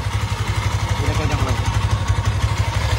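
A modified Yamaha FZS V3 183cc motorcycle engine with a free-flow exhaust idles close by, a steady, loud, lumpy pulsing throb with rapid even beats throughout.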